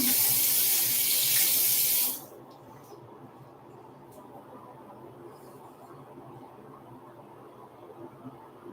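Running water from a tap wets hair in a steady, loud rush for about two seconds, then cuts off, leaving a quiet room with faint handling noises.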